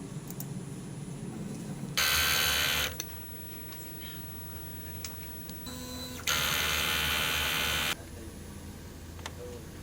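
A DTF printer runs a head clean cycle: two loud bursts of whirring, buzzing mechanism noise a few seconds apart, separated by quieter ticking and clicking of moving parts.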